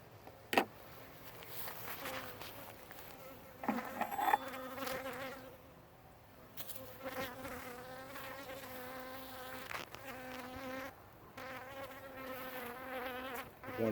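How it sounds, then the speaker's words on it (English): Honeybees buzz around an open hive during an inspection, with wavering close passes of a single bee near the microphone over a fainter background hum and a few clicks of handling. "One bee that's really interested in the camera right now."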